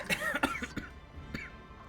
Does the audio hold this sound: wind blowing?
no